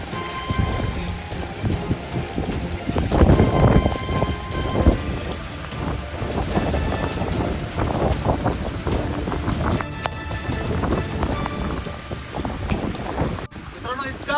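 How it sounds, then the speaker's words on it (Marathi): Heavy monsoon rain pours continuously with gusting wind roaring over it on a fort trek at Gorakhgad, a dense, loud, unbroken wash of noise, with a voice faintly audible beneath. "भयानक तुफान असा पाऊस चाललाय आणि अक्षरशः वाऱ्याने आपला झोप जातो"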